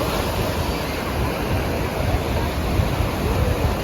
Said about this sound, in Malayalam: നുസാ പെനിൻസുലയിൽ ക്രിസ്റ്റൽ ബീച്ച്